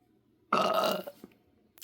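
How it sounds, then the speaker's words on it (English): A single loud, drawn-out burp from a person, close and lasting about half a second, followed by small mouth noises in a quiet room. "That was a weird burp."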